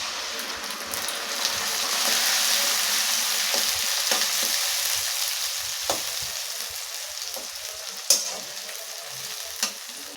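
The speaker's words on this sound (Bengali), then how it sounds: "দিয়ে ভালো করে মশলাটা ভেজে নেব" Steady sizzling of a ground tomato, green chilli, onion and ginger-garlic paste frying in a hot pan, with occasional scraping stirs and small pops throughout, no talking.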